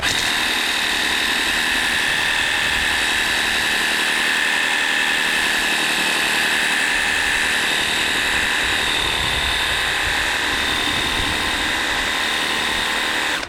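A Titan cordless pressure washer fed directly from a hose sprays through a 25-degree nozzle with a slight spread, a loud continuous hissing whine close by.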